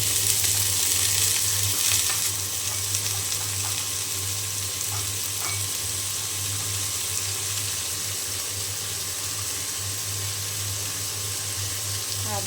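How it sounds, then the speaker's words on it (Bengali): Potatoes frying in hot oil in a pan, a steady loud sizzle throughout, strongest in the first couple of seconds after they drop in, then settling to a continuous crackling hiss with no talking. "তেল গরম হয়ে গিয়েছে। এখন এই যে আলু দিয়ে দিলাম।"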